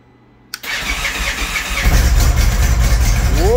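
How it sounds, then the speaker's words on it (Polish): An Indian Chieftain motorcycle engine cranks with a sharp click and catches after about half a second, then settles into a loud, steady, rumbling run that swells slightly toward the end. "Motocykl się uruchamia. Tylko nie wiem, czy będzie można zapalić silnik."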